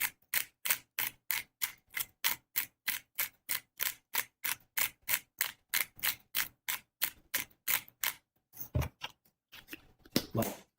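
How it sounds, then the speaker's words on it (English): Truffle sea salt and black pepper in a hand grinder, cranked in a steady run of about two dozen short, evenly spaced crunching clicks, close and clear with no talking. "truffle sea salt mix, truffles, sea salt, and black pepper in a grinder"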